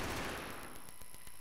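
A Kürbisknarre gun fires in Battlefield, a rapid automatic burst of evenly spaced shots in quick succession after a louder opening blast, tested for recoil at five meters.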